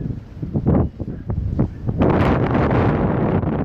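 Strong wind blowing during a wildfire near Namhu, Andong: heavy gusts buffet the microphone in loud, rumbling bursts, then settle into a continuous roaring rush.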